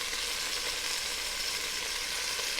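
Beef pieces searing in a hot pan for New Orleans grillades, a steady close hiss of frying with no distinct pops, continuous and evenly loud throughout, no voices.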